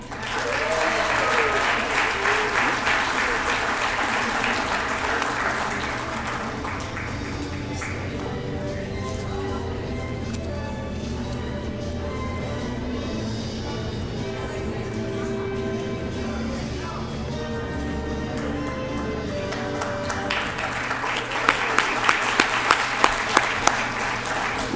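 Sustained, dense applause from a banquet crowd honoring the Coach of the Year, close and continuous across the whole stretch and swelling slightly near the end, with voices mixed in.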